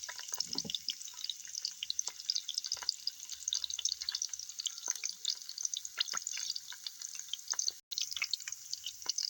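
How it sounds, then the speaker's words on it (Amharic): Sliced garlic sizzling steadily in hot oil, a dense crackling hiss with scattered pops and spits that runs the whole time at close range, with no voices. "ዘይቱ ላይ ነጭ ሽንኩርቴን ጨምራለሁ ነጭ ሽንኩርት በቁመቱ የከተፍኩት"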